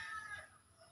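Backyard chickens in a small home flock cluck and call faintly at a distance, a thin, steady stretch of bird voices over quiet surroundings.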